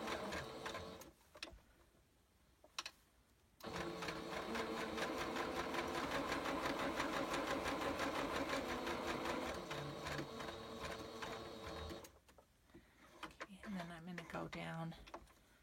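Sewing machine stitching with bobbin thread that does not match the top thread, running steadily for several seconds with a fast mechanical rhythm between quieter handling sounds, close and fairly loud.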